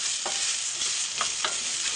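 A spoon stirs long grain rice and lentils with water in a pot for mujaddara, giving steady bright sizzling and scraping with a few soft knocks against the pot, close and continuous without talk.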